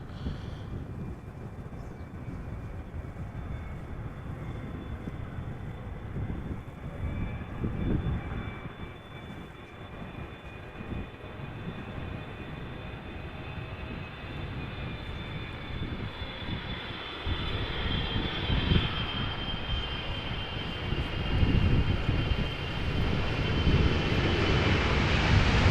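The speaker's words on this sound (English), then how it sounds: "777-300 ER. 11 years old. First flight June 2012." A Boeing 777-300ER airliner arrives at Amsterdam Schiphol Airport in crosswind conditions, its engines a broad roar with a high whine that grows louder and closer toward the end, heard alone.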